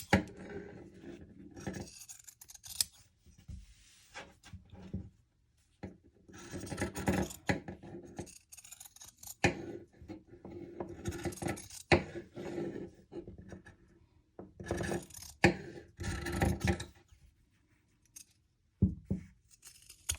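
Scissors snipping close along the seam to trim fabric seam allowance on a handmade reusable shopping tote, a series of near, crisp cuts and scratchy fabric rustles in bursts separated by short pauses.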